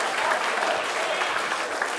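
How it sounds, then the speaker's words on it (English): An audience at an awards gala claps in sustained, dense applause that carries evenly from start to finish. "everyone round applause for Bill"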